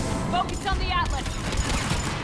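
Gunfire in the Mass Effect video game crackles in quick rapid bursts amid a dense battle din, with a voice speaking briefly over it.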